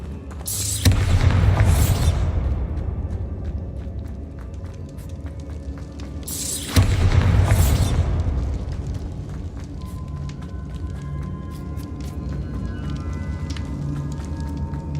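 Two heavy magical blasts from the Bombarda spell in Hogwarts Legacy, each a sharp broadband boom with a long rumbling tail, several seconds apart over steady game ambience.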